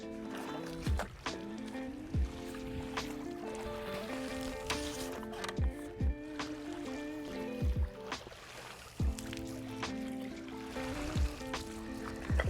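Water sloshing and lapping as a brush is pulled off a swimming pool stair and lifted, pushing a wave into the pool; repeated splashy surges come every couple of seconds over a steady wet background, with no voices.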